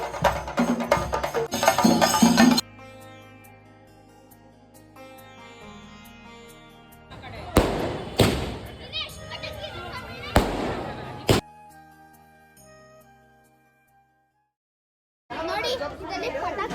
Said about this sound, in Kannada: ನೋಡಿ ಇದರಲ್ಲಿ ಪಟಾಕಿ ಇದೆ, ಸ್ಕೈ ಶಾಟ್ ನೋಡಿ, ಸ್ಕೈ ಶಾಟ್ ಇದೆ.